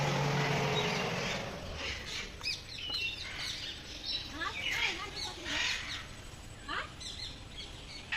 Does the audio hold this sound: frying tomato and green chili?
no